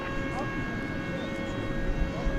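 Boeing 777-300ER arriving from London Heathrow at DFW Airport at night, a steady broadband jet roar with a high whine, distant and continuous under faint voices.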